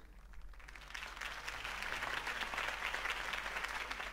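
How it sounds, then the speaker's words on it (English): Sustained crowd applause and cheering in the video game Batman: The Telltale Series swells and holds steady, a dense wash of many hands clapping at once with no one speaking. "could have heard that applause"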